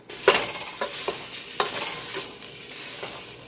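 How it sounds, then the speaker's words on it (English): One pound of ground beef browns over medium heat in a pan, a steady sizzle broken by several scraping stirs of a utensil, close and fairly loud with no talking. "Over medium heat, you're going to brown up the ground beef"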